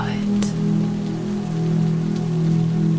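Steady drizzle falls during a storm, making a continuous even wash of fine raindrops on surfaces. The hiss is close and constant, with a faint voice murmuring low in the background.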